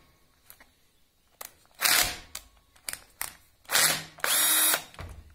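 Power drill loosens screws on a DeWalt DW733 thickness planer in several short whirring bursts of varying length, close and loud, separated by quiet pauses and small clicks.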